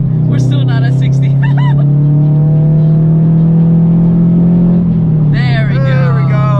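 A bagged widebody Subaru BRZ / Scion FR-S pulls hard under acceleration, its engine note droning loud and steady from inside the cabin, rising then dropping as it shifts, with excited voices over it.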